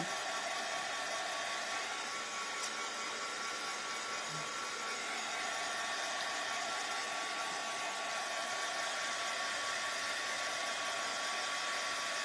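A hair dryer blowing on a painted patriotic framed craft sign, a continuous loud, even whooshing roar that holds steady throughout, close by and with no voices.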